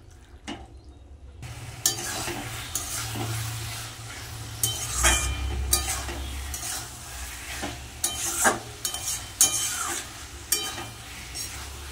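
Spinach stirred and fried in a wok over a gas flame, with a steady sizzle and repeated scraping and clinking of a utensil against the pan, close and continuous.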